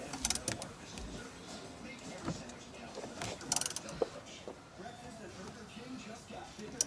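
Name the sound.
ratchet wrench clicking while installing car parts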